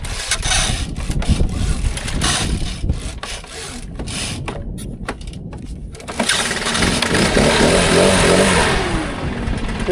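A small gasoline engine on a 1-gallon-class machine cranks with repeated stuttering pulls, then catches and runs steadily louder in the last few seconds, near and alone without talk.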